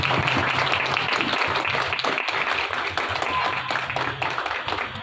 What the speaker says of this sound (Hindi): जोरदार तालियां, क्या बात है।